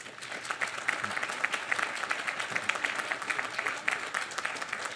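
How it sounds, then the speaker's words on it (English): An audience applauds at a groundbreaking ceremony for Boston Sword and Tuna, a steady wash of many hands clapping, fairly loud and sustained for the full five seconds without pause. "So a round of applause for the Scola family for your commitment."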